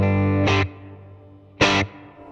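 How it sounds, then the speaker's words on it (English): Electric guitar played through a Fender Mustang GT amp set to a large hall reverb: two loud strummed chords, each with a long, spacious reverb tail ringing out between them, with no one talking. "I like spring a lot, but I'd like something a little bit bigger sounding. So I'm going to do a large hall"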